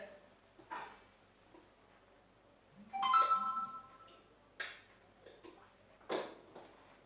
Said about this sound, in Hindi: ये हमारा फोन बज रहा है